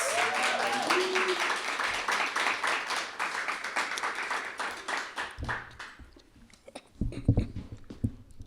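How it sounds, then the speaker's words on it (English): Applause from a live-music audience after a performer's set, dense steady clapping over several seconds that thins out toward the end, with scattered louder claps and some background voices. "Another round of applause for Dewa Ayu"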